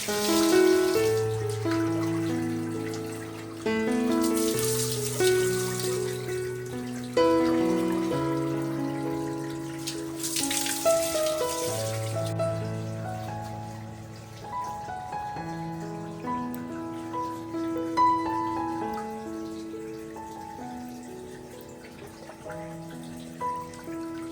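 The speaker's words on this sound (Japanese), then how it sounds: "熱いお湯は岩を下るうちに適温になってくれるんだね" Hot spring water trickles and splashes steadily down large rocks into a private open-air bath, a soft continuous babbling with brief brighter gushes, gentle and close, with no one talking.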